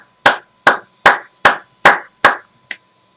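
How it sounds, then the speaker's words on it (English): Six sharp, evenly spaced claps close up, then a seventh softer clap, each one crisp and isolated with silence between. "Can we get another clap?"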